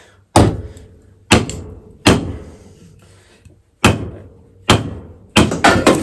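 Short wood chunks split with an axe outdoors: six sharp, loud chopping impacts at uneven intervals, each ringing briefly before fading, with quiet gaps between strikes.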